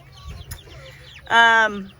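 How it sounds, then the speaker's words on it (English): Young chickens kept in a homestead enclosure give soft scattered clucks and peeps, then one bird lets out a louder, drawn-out call close by. "Our little chickens are getting big."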